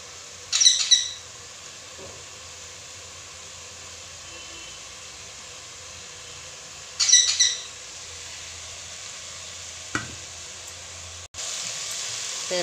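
Spices and curry leaves sizzle in a pan for a vegetable kurma. A constant hiss runs throughout, with two louder spitting bursts as ingredients drop in and a brief clatter near the end.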